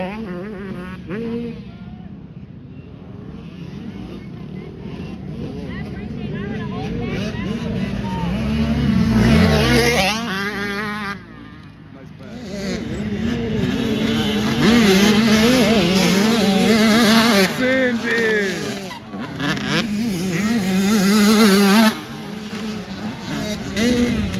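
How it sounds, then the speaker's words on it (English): Two-stroke quad engines run on race fuel at a GNCC off-road race. A loud, buzzing engine drone rises and falls with revving, with voices talking over parts of it. "That 2-stroke with the race fuel."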